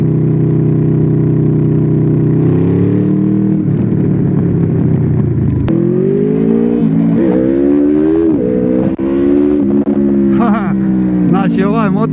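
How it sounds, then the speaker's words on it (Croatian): A 2012 Honda Crossrunner 800 V4 motorcycle engine drones loudly while riding, rising and falling in pitch through gear changes and throttle, with someone talking over it throughout. "Ova živahna V4 mašina kako lipo ide, vam daje stvarno ugođaj"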